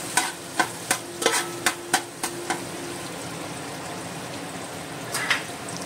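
Garlic frying in a pan with melted fat for Goan-style prawn chowmein, under a steady low sizzle, with a quick run of sharp spatula taps and scrapes early on and a few more near the end, close and clear, with no talking.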